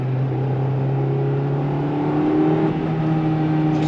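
A Honda car launches hard with its tires spinning, a steady loud engine drone and whir heard from inside the cabin, rising slightly as it goes.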